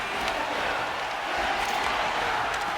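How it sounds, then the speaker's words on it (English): A hockey arena crowd cheers in the third period of a Colorado versus Dallas Stars playoff game, a dense, sustained roar of many voices with no clear individual shouts. "As this crowd does explode, finally, in the third period."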